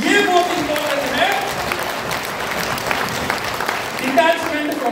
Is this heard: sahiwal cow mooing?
no